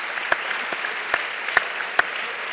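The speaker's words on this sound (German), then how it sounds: "Sie müssen jetzt doppelt so lange klatschen" An audience at a lecture applauds in a continuous stream of clapping, with a few sharper individual claps standing out near and loud.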